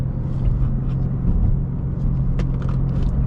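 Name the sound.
2026 BMW G80 M3 car driving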